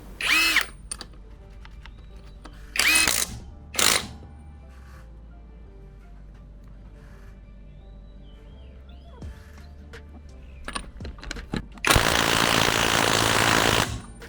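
An OSUKA OSID-520 128V cordless impact wrench tightening a 21 mm wheel nut on a pickup truck: two short loud bursts of whirring hammering, a brief third, quiet gaps, then a longer rattling burst at the end.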